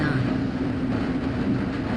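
Transit train rolling along inside a research facility in Half-Life: Blue Shift, a steady low rumble and rattle of the car on its track, continuous and close.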